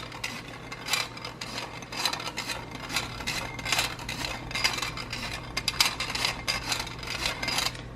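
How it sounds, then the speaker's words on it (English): Cocoa powder is sifted over chocolate pudding cake batter in a lined crockpot, giving a steady, soft rattling and scraping from the metal sifter with faint clinks, close by and without talk. "of the cocoa powder to a sifter and just kind of sift it over the top"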